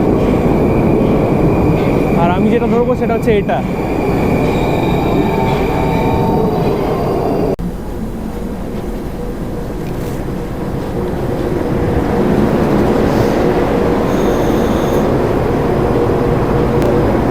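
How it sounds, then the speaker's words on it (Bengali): Old-style metro train in a Russian station rumbling loudly and steadily, with a brief squeal of wheels and clanking as cars pass close by, and someone speaking briefly over the din. "কি সুন্দর মেট্রো! জাস্ট দেখো মেট্রোটাকে।"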